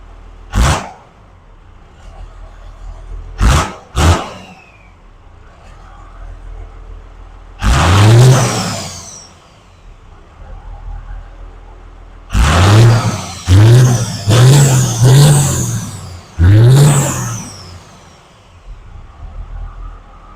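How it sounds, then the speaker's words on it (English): A square-body truck's diesel engine with a P7100 injection pump, heard as a series of short, loud revs and bursts separated by quieter idle, several in quick succession near the end. "So if you just touch the throttle, it fires right up."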